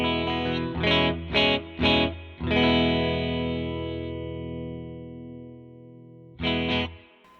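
Electric guitar through a Black Bobbin Boost pedal: three short, punchy chord stabs, then a long ringing chord that slowly decays, and one more pair of stabs at the end, bright and clear with light drive.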